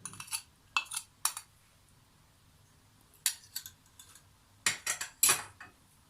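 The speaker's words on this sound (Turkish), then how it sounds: "Hepsini güzelce karıştırıyorum" A spoon mixes cornmeal biscuit dough with softened butter in a bowl, producing short clusters of sharp metallic clinks and scrapes separated by near silence, close and fairly quiet.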